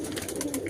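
Pet pigeons coo softly at home during deworming, a short continuous low murmur with no voices.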